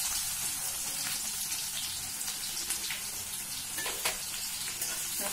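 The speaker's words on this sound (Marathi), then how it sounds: "आपली मोहरी चांगली तळतळली आहे. आपण त्यात टाकणार आहोत जिरं." Mustard seeds and cumin splutter in hot oil, a dense, continuous close crackle with a few louder pops, steady throughout and without speech.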